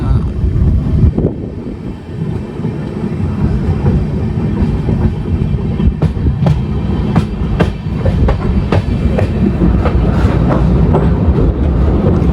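The KSR Bengaluru Ernakulam Intercity train runs loudly on the rails with a constant heavy rumble, a steady rhythmic clickety-clack of wheels over rail joints, and sharper clanks growing more frequent toward the end.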